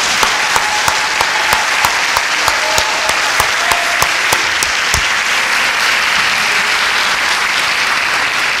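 Audience applause at a ceremony honoring a cultural figure, loud close clapping that is dense and continuous, with a few sharp individual claps standing out early before it evens into a steady wash.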